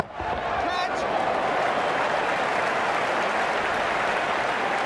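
Cricket crowd in the video game Ashes Cricket, during an India vs Australia one-day match, roaring and applauding in a steady, loud, dense wash that swells at the start and holds.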